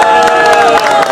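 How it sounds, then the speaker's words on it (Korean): Applause and clapping from a crowd at a candlelight rally in Suwon calling for the president's removal, a dense, steady wash of hand claps and cheers close by, filling the whole moment. "큰 박수로 모시도록 하겠습니다."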